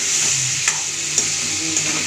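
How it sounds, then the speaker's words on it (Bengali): Cubed potatoes coated in turmeric sauté in hot oil in a pan for aloo posto, giving off a steady soft sizzle. A spatula scrapes and stirs through them a few times, close up, with no talking. "হলুদটাকে দিয়ে ভালো করে কষে নেব।"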